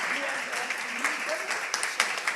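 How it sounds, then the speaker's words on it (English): Conference audience applauding, a steady wash of clapping with scattered sharper claps, fairly close, and a voice talking faintly underneath. "If we want, we can clap also in the end."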